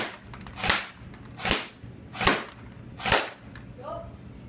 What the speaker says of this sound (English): he's gonna start shooting right now. We're gonna start on semi.